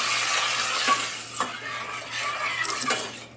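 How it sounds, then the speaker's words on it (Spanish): Blended tomato pours into a hot pot of codito noodle soup with chicken breast, giving a steady sizzling hiss broken by a few soft clinks and stirring sounds. "Ahora le voy a poner el tomate que ya licué."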